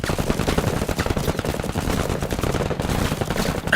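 Rapid continuous gunfire from a Menace sci-fi squad battle against armored enemies, a dense rattling stream of shots close up and loud throughout, with no talking.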